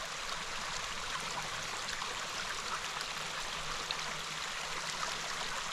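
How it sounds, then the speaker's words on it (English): Stream flowing out of a valley, partly fed by groundwater seeps, giving a steady, even rush of water that stays constant and fairly close throughout. "So this is the stream coming out of that valley where we turned around."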